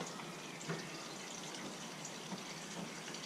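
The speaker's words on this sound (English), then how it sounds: "This drains the water from the water tank." Continuous hissing rush of water draining from a Thetford toilet's water tank, steady and fairly close with no pauses or voices.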